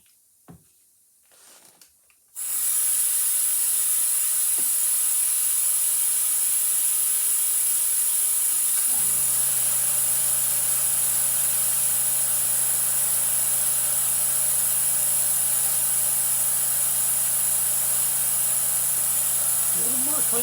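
An Iwata airbrush sprays cleaner through its nozzle as a loud, steady hiss. It starts abruptly after a few quiet clicks and runs unbroken to the end, with a low hum joining partway through.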